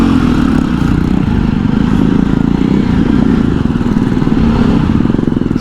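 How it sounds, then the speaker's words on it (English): A Jawa 42 Scrambler motorcycle is ridden, its engine thrumming close and loud in a steady, pulsing rhythm throughout, with no talk over it. "I'm riding the Scrambler and I'm super duper excited to ride it."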